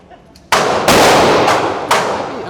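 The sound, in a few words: M&P 2.0 9mm pistol with FRT trigger firing at range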